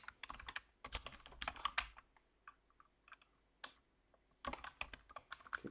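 Someone entering a password on a computer keyboard, quiet keystrokes landing in quick bursts with short pauses between them, close and alone.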